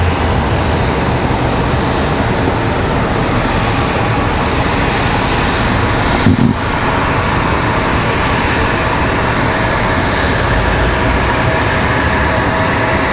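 A CRJ regional jet at Raleigh-Durham International Airport gives off a loud, steady broadband roar of engine noise that holds unbroken from start to finish, close and continuous, with no voices over it.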